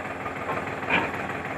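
A tractor engine runs steadily at a close, loud, continuous drone while a rotavator side plate is fitted, with no talk over it.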